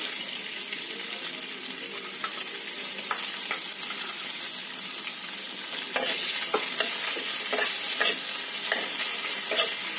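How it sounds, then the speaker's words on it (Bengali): Marinated chicken pieces fry in a pan with a steady, close sizzle, and sharper stirring and scraping clicks grow more frequent in the second half. No voices are heard. "এবার এর মধ্যে ম্যারিনেট করা চিকেনের টুকরোগুলো দিয়ে দেবো, একটু ফ্রাই করে নেব।"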